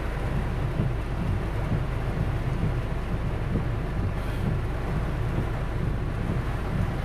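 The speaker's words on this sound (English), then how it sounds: "I know it's raining" Heavy rain pours down during flash flooding at Brassall near Ipswich, a constant loud dense roar with low rumbling and wind noise throughout, no voices.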